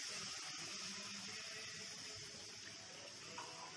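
Buttermilk poured into semolina for a Nashik-style sanja breakfast, a steady close liquid pour and splash running throughout with no talk over it.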